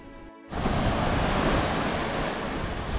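Ocean surf at Navarre Beach, Florida rushes in as a broad, steady roar mixed with wind noise on the microphone, starting abruptly after a brief quieter moment.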